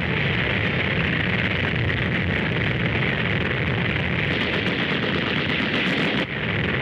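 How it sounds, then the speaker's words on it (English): Dense, continuous roar of artillery and rapid gunfire during 1941 army war games in the American South, with tanks advancing across a stream. Loud and relentless with a grainy newsreel texture, without a break until a slight dip near the end. "Crossing a stream under artillery fire."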